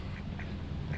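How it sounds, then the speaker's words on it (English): A duck quacks a few short times, fairly faint, over a steady low background rumble. "What the heck is this duck doing? Hey duck, quack."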